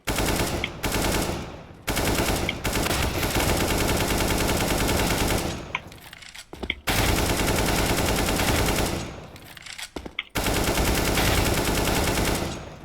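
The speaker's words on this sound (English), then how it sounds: "change to M4, shoot a bit" M4 rifle fire in a video game, long loud automatic bursts that fill most of the stretch, broken by two short pauses before the firing resumes.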